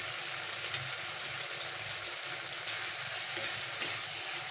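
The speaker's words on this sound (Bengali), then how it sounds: "ভালো করে অল্প জল দিয়ে ভালো করে কষে নেবো চামচ আদা রসুনের পেস্ট দিলাম" Okra masala with ginger-garlic paste and a splash of water cooking in a pan, giving a soft continuous sizzle with faint stirring scrapes throughout.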